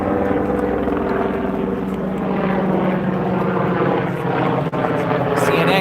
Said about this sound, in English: I got a chopper.